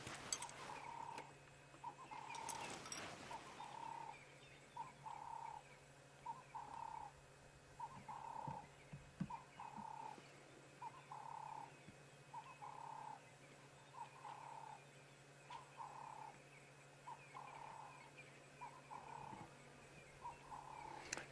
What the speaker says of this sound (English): It is a Cape turtle dove, and they quite often call from a high perch